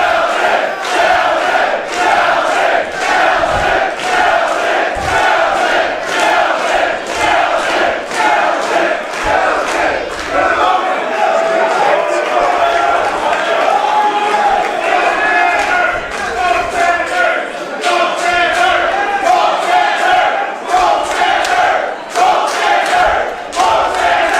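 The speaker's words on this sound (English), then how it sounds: "listen to this crowd" A large wrestling crowd at a live match roars and chants continuously, loud and close, with rhythmic clapping and surges of shouting rising and falling throughout.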